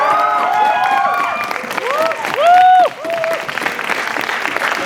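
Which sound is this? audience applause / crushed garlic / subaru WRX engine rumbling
audience applause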